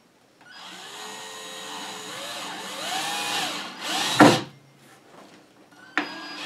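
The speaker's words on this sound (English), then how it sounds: "And screw them right down." A power drill drives screws into the corners of a wooden hydroponic float box, its motor whining in sustained runs that rise and fall in pitch, ending in a loud clunk, then a short final burst, with no talking.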